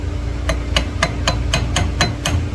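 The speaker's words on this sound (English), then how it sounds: "I'm going to get a hammer" A hammer tapping on a rod resizing clamp, eight sharp metallic taps in a steady, even rhythm, close and clear over a faint mechanical hum.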